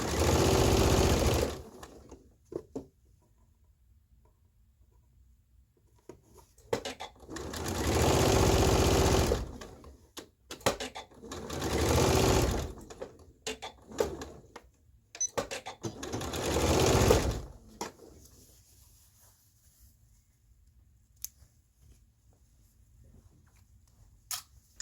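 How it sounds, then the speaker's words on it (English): A sewing machine stitches seams on a girl's beginner tunic in four separate loud bursts of whirring, each a few seconds long, with quiet pauses between them and no talking. "Now I'm gonna sew the shoulders"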